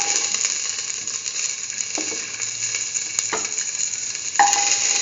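Shallots sizzle and fry in a pan for stew, a steady loud hiss with a few sharp clicks and scrapes of stirring throughout, no voices.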